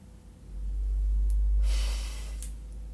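A single long breath is blown out steadily, rising and fading over a couple of seconds, close to the microphone.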